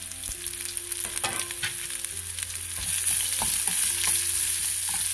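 Onions fry in a pan with a dense, steady sizzle close by, punctuated by spatula stirs and scrapes, no speech.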